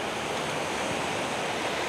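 Mediterranean Sea waves washing onto the Tel Aviv shore, a steady broadband roar of surf with constant wash and no break, close and full, with no voices.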